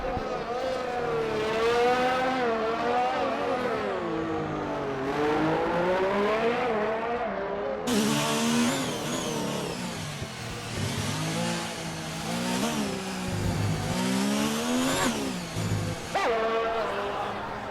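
Haas Formula 1 car engine in a racing video game at Baku, a high-pitched wailing engine rising and falling through gear changes on a fast lap, loud and continuous, with commentators talking over it.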